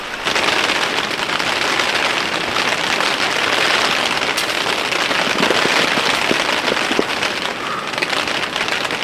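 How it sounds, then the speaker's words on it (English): Heavy rain pours steadily onto a hot tent in a cold forest campsite, a dense, loud hiss with occasional sharper drop taps, unbroken throughout. "Yeah, the wind is starting to pick up as well, and the rain is getting heavy too"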